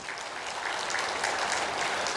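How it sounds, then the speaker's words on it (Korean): A church congregation bursts into steady, dense applause, a broad wash of clapping that fills the room for a couple of seconds. "요셉을 위해서 한 박수 한번 쳐줘봐"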